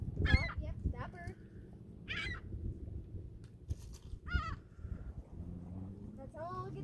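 Seagulls being fed at a lake give loud, harsh squawking calls in short bursts, overlapping with each other, while people talk nearby.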